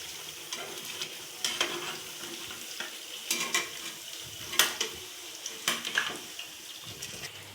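Biscuit pakoras fry in a pan, a soft continuous sizzle broken by irregular scrapes and clicks as they are stirred and turned, close and moderately quiet.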